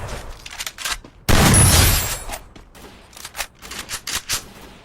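Gunfire in a video game fight: scattered short pops and one loud sustained burst of automatic fire near the start, then further quick shots at moderate distance, with no talk.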